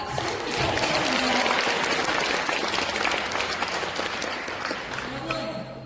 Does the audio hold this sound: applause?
yes